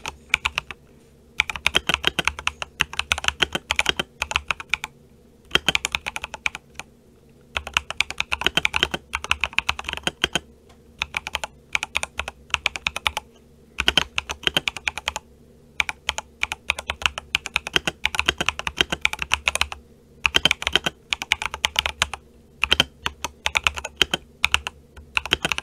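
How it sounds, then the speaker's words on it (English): Continuous typing on an Epomaker EP75 keyboard with tactile switches, rapid close clacks in bursts separated by brief pauses, with no voices. "Anyways, typing test."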